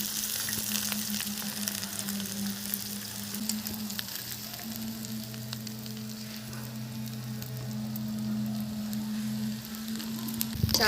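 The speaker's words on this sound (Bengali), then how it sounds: "চালটা পুরোটা দিয়ে দিয়েছি। এখন আমি হালকা করে করে ভাজতে থাকবো।" Rice for basanti pulao fries in a pan with green chilli paste, ginger paste and turmeric, giving a steady, even sizzle with soft stirring scrapes throughout and no talk.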